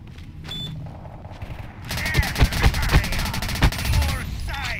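Gunfire in the PC shooter Ballistic Overkill rattles off in rapid bursts of sharp shots after a quieter opening, with a fast run of cracks in the middle and brief speech-like sounds around it.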